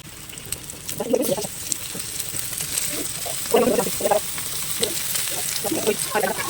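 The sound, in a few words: fish coated in semolina frying in a pan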